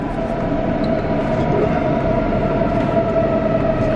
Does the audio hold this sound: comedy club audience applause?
no